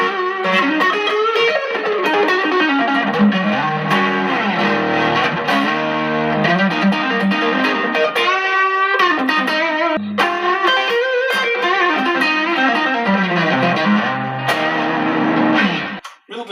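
Electric guitar played through high-gain distortion, loud sustained chords and riffs with a thick saturated tone, playing continuously and alone throughout.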